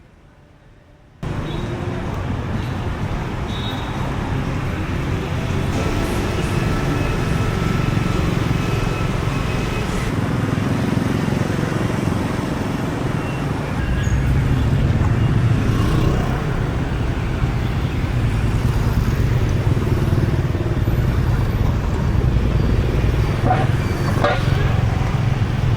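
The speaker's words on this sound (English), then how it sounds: "out on the main road, the traffic is really starting to pick up" Cars and other vehicles pass along a busy main road in a city in the early morning. The roadway noise is a steady rumble that swells slightly over time, and a voice talks at times beneath it.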